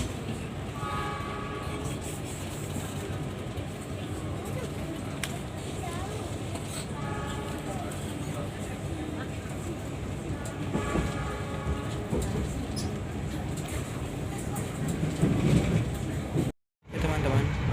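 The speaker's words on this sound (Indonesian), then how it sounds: "perjalanan aku naik kereta api Argo Merbabu telah melintas langsung di stasiun Kertasmaya" The Argo Merbabu train runs through Kertasmaya station in Indonesia, with a steady rumble and clacking of rail cars and a horn sounding, under a voice.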